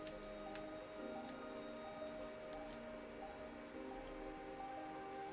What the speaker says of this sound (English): Be nice if I could sleep to get rid of this rain.